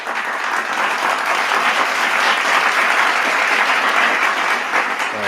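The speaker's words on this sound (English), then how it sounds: "Let's get that brother a round of applause right there." A room full of people applauding for a new channel member during a live interview stream, steady dense clapping that holds at a constant loud level throughout, with no voices over it.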